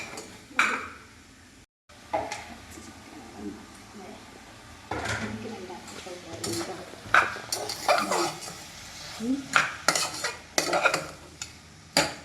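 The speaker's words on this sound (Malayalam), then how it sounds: "നമുക്ക് ഇതിലേക്ക് ചിക്കൻ ഇട്ട് കൊടുക്കട്ടെ." Chicken stirred in a hot pan with utensils scraping and clinking while it fries, steady sizzling underneath and a few sharp metallic knocks; voices talk intermittently over the cooking.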